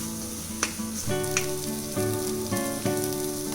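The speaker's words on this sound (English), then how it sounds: "So we'll stir fry this and cook it nicely till our tomatoes start releasing oil from the sides." Tomatoes stir-fried with spices and coriander for tomato rice sizzle in a pan nearby, with sharp crackles and a few spoon scrapes over a constant frying hiss, and no voices.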